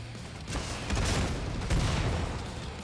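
Gunfire in the shooter Killing Floor 2 during a Halloween session, several close bursts of shots over a steady roar of background noise.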